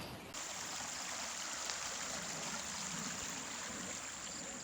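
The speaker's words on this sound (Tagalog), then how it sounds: "nandito tayo ngayon sa ilog" Steady rushing river water flowing continuously, a broad even wash of noise with no voices, close and fairly loud throughout.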